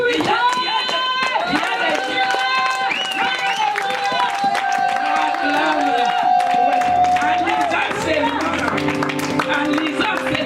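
A church congregation claps and cheers steadily throughout, mixed with loud music holding sustained tones and with voices, all dense and continuous with no pauses.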